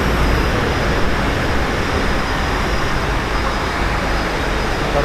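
A local train pulls out of Belapur heading for Panvel, a loud constant rumble and roar of wheels on track that continues without break and without voices.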